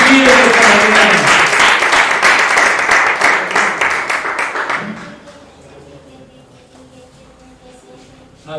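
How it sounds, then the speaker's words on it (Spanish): Loud applause from a church congregation fills the room for several seconds, then fades out into quieter murmuring and a low background hum. "Dale un aplauso al Señor"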